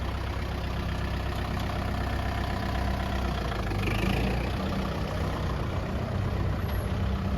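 A Kubota MU4501 45-horsepower tractor engine, with about 700 hours of use, idles steadily with a low, even rumble and no pauses, running alone without voices.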